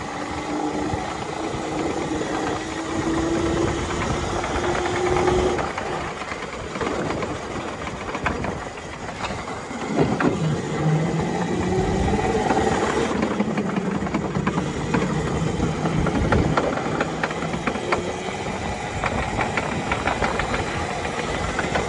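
A go-kart engine runs on a karting track, a close, rough buzzing drone with rising and falling revs and gusty noise throughout, with no clear speech.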